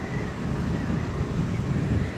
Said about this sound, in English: you could really hear the wind whipping around here.